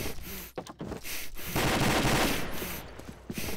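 Rapid bursts of video game gunfire build into a dense, loud volley in the middle of the stretch and then thin out into scattered shots, with no talking.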